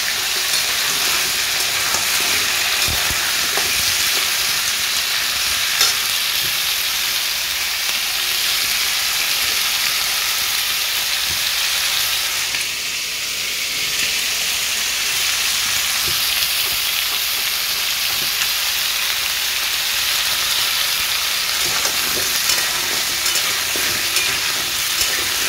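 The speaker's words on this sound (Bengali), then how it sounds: "দেখো এইদিকে পুঁই ফলটা ভাজছি" Malabar spinach fruits fry in a pan of hot oil, giving a loud, continuous sizzle with crackling pops that holds steady for the whole stretch, without any speech.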